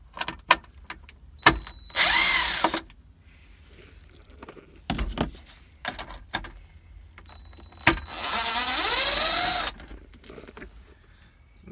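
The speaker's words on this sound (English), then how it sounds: "Now I've got a 7mm. And I'm going to take out these two bolts at the middle of the dash here." Power driver with a 7mm bit backing out bolts from the middle of a Volkswagen Rabbit truck dashboard, two short whirring bursts separated by clicks and clunks of handling, fairly quiet and close.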